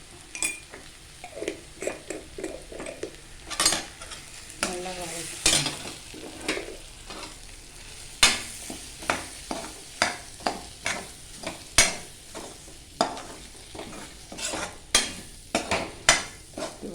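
Repeated clinks and scrapes of a utensil stirring in a pan, over a steady low sizzle of salt, chilli powder and turmeric sautéing for kara kuzhambu; close and fairly loud, no talking.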